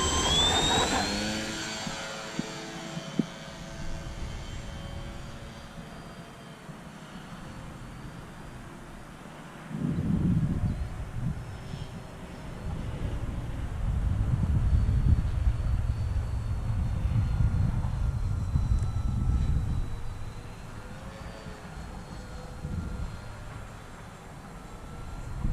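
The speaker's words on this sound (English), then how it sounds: "We're going to take up the e-flite 1500 cargo plane and do a little buzzing around here" An E-flite EC 1500 RC cargo plane flies around, its electric motor whining and droning as it passes, swelling louder on close passes and fading between them, with no talking.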